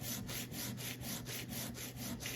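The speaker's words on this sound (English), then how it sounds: "I'm just going to take a piece of 220 grit sandpaper and lap the bit" A screwdriver bit is lapped back and forth on 220 grit sandpaper, a steady rhythmic rasping scrape of roughly ten even strokes, close and continuous, with no voices.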